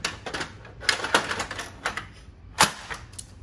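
A duplex unit is pushed into an HP LaserJet M4555 MFP printer, making a quiet series of plastic clicks and knocks with a sharper snap near the end and no talking.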